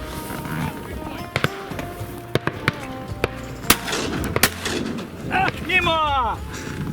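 Several sharp shotgun cracks during a duck hunt in Ternopil Oblast, Ukraine, some near and some distant, ring out over an outdoor background, followed by a flurry of bird calls.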